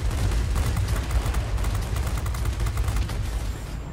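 Anti-aircraft fire in the World of Warplanes flight game, heard from a German Fw 190 A-8/R2 fighter: a dense, continuous rattle of rapid bursts over a steady low engine rumble, loud throughout with no voices.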